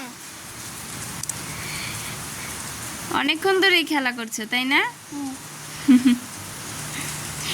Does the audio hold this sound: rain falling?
yes